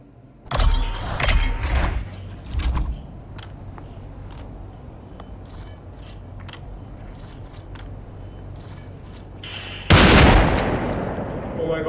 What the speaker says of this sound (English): I'm shooting right now with a sniper